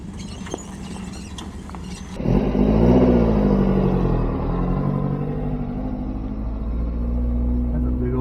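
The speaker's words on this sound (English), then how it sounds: "You'll see a really cool VW powered sandrail behind us." A VW-powered sandrail passes on a muddy off-road trail near Windrock, its engine swelling into a loud, sustained low rumble after a brief quieter stretch, then holding steady and close.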